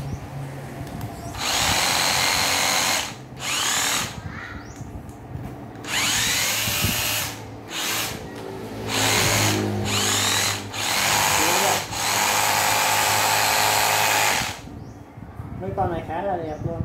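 Nati 12V cordless drill run in repeated short bursts, each whining spin-up lasting one to two seconds with brief pauses between, loud and close, with someone talking in the gaps.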